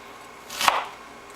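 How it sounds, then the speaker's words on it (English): A knife slices through anise on a cutting board: a single crisp cut with a short rasp ending in a knock against the board, close and clear with no talk. "I'm going to be slicing my anise to start."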